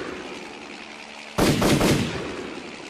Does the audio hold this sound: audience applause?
no